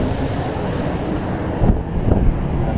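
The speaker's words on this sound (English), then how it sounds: "I just wanted to get a little footage of this crazy ass wind" Strong outdoor wind in New Mexico roars steadily into the microphone with heavy low rumbling buffets and a couple of louder gusts, no voices.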